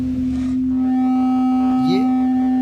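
A first tuning fork, set for a resonance demonstration, rings with a loud, sustained pure tone, faint knocks and a short sliding whine briefly rising over the steady hum.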